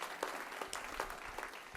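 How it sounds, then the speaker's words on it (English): Brief, soft applause from a small group at a community meeting, scattered claps at moderate distance, fairly quiet and steady throughout. "I think he deserves an applause for that"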